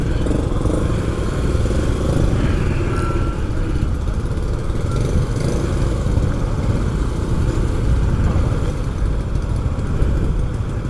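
A motorbike rides along Soi Buakhao street around 5 PM, with a continuous steady engine rumble and road noise up close, plus a faint clatter of surrounding traffic and no speech.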